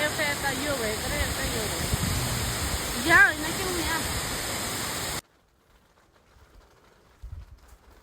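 A waterfall near a home village rushes in a steady broadband roar for about five seconds, with a voice briefly heard over it, then cuts to near silence with faint rustling.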